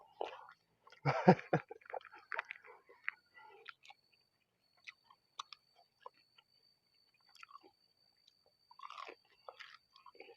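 Crunchy salted fried pork, including its fatty part, is chewed close up: a dense flurry of crisp crunches early on, then sparse, quiet bites and clicks with silent gaps.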